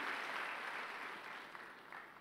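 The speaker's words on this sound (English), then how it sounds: "Another hand clap to Jesus." Brief, fairly faint clapping from a church congregation during a Sunday service, a dense wash that fades slightly over two seconds.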